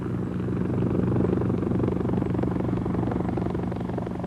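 Helicopter flying steadily, a loud, continuous rotor and engine rumble with rhythmic blade chop that holds constant throughout, with no talking over it.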